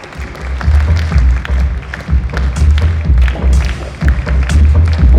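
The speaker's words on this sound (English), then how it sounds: "Our energizing clap" An audience claps to welcome a speaker onto a conference stage, a loud steady wash of applause over a thumping low musical pulse that runs throughout.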